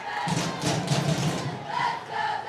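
Crowd at a high school regional semifinal baseball game, a loud surging cheer with rhythmic shouts and thumping, swelling twice over a couple of seconds.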